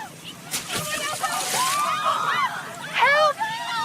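Splashing and sloshing of a boy falling into a cold creek during a children's outing, with churning water and bursts of splash under excited children's shouting and calls.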